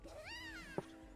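A pet cat gives one clear, rising-then-falling meow at close range in a quiet room, followed by a soft thump and a brief faint chirp.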